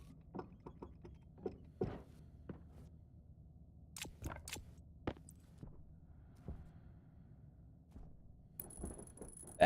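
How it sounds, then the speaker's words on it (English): Wrench work from the space survival game Stationeers: a string of sharp metallic clicks and ratcheting ticks, irregularly spaced, some faint and some crisp, against a quiet background. "A wrench."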